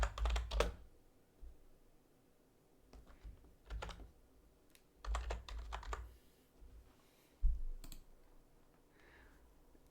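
Keys clatter on a computer keyboard in bursts of quick clicks separated by short pauses, close and fairly loud, as someone types a line of Python code, with no talking.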